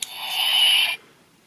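DX Ultra Zero Eye Neo toy from Ultraman Geed giving its activation sound through its small speaker, one bright, synthetic, warbling electronic tone lasting under a second, close and clear, then cutting off.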